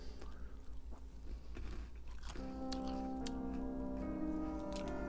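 Close crunching and munching of Cocoa Puffs Popcorn cereal snack, with soft, irregular bites under steady background music.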